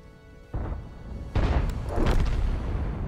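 An S-51 self-propelled gun fires in World of Tanks: a sudden deep boom hits, followed a moment later by a second heavier blast that rolls on into a sustained low rumble, with no speech.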